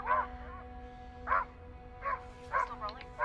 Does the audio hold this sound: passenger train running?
no